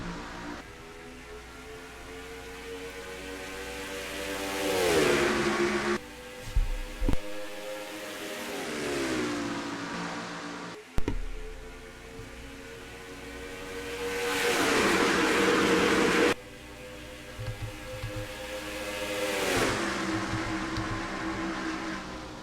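Stock race cars roar off at a green flag start of the John Deere 300 at Atlanta, engines swelling and fading in repeated loud passes with brief gaps between the packs.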